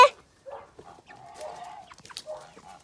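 Chickens cluck and squawk at close range while meat birds are being caught on a farm, several short agitated calls and one longer drawn-out squawk, with no talking over them.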